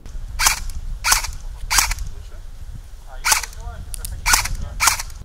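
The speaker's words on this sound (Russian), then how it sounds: "Участники страйкбольного клуба «Трассер» показали принцип работы разнокалиберного оружия и стрельбы из него." Airsoft guns of various calibers fire at an airsoft club demonstration: sharp, snappy single shots spaced about half a second to a second apart, some in quick pairs, over faint background noise.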